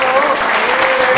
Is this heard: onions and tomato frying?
no